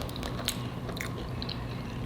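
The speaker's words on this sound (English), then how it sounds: "It's so special when the crust is crunchy on the bottom and the top." Someone bites into the crunchy top and bottom crust of a homemade chicken pot pie spaghetti bake, with sharp close crunches and chewing sounds over a steady low room noise.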